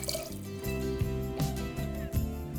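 Rum pours into a small saucepan of plant-based milk as a gentle trickling, glugging stream with soft splashes, close and quiet.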